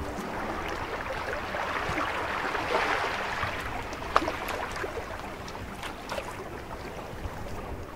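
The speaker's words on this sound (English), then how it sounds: "we're rowing away from Havasat towards this beautiful main shore" A dinghy is rowed across the water off Monhegan toward the main shore, a soft wash of water and wind with faint splashes and a few light knocks of the oars.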